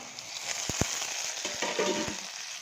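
Chopped tomatoes sizzle in a hot pan, a steady close frying hiss with a few sharp clicks and stirring sounds, and no talking.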